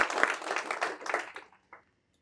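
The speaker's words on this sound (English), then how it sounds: "Can we give her a big round of applause?" Brief round of audience applause at a corporate chairwoman's address, dense clapping for about a second and a half that fades out, with one faint trailing burst of claps at the end.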